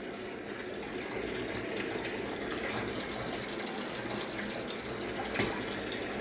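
Water gushing from a tap into a newly installed bathtub, a steady full rushing flow at good pressure, close and constant throughout with no speech.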